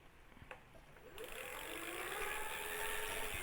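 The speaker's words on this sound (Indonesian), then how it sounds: "bunyi motor listriknya ya." A 350W BLDC hub motor on an electric bicycle's rear wheel spins up slowly after a click, giving a steady, fairly quiet electric whine and hum that rises and holds, with no speech.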